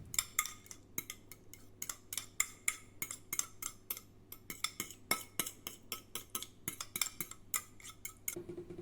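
Metal spoon scraping and clinking against a bowl while Greek yogurt is scooped in, a rapid run of close, light taps and scrapes with no talking.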